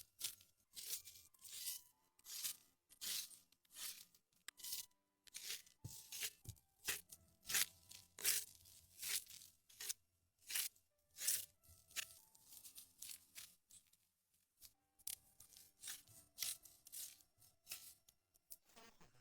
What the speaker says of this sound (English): He lashed some sticks together to make a deluxe log peeling station. The logs were heaved on top and promptly stripped naked.